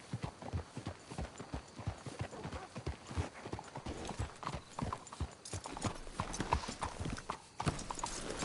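Horse hooves clip-clop in a quick, steady rhythm in the video game Red Dead Redemption 2, several horses trotting together on hard ground at moderate volume, with no voices.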